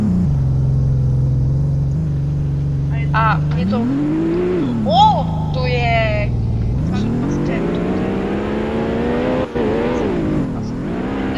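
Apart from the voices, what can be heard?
car drifting on ice in Realistic Car Driving video game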